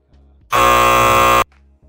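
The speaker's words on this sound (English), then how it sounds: "give me not a long buzzer though" A loud, harsh electronic buzzer sound effect of the kind used in basketball news coverage sounds once for about a second, with quiet gaps before and after.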